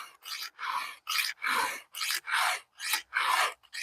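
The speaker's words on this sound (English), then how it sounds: "I'm not filing very hard right now" Hand file rasping across the teeth of a chainsaw rip milling chain, eight steady rhythmic strokes with short pauses between, close and clear with no talking.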